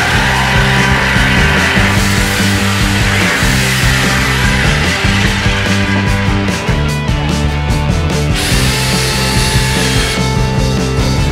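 A power drill grinds into pallet wood in repeated bursts, loud and close, pausing briefly between each pass.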